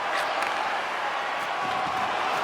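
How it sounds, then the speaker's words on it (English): A crowd in an NHL 25 video game hockey arena applauds and cheers in a dense, steady wash of clapping and crowd noise that holds at an even level throughout. "the crowd's on their feet, saluting the team after a hard-fought effort this evening"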